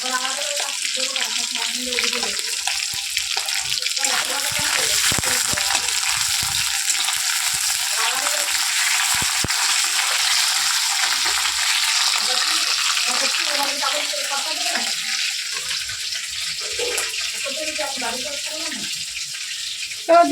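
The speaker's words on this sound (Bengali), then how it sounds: "দাও কচু শাকটা তেলের মধ্যে একটু মশলা দিয়ে দিই" Taro leaves (kochu shak) fry in hot oil with a steady, close hiss, broken by occasional stirring and scraping as the pan keeps sizzling throughout.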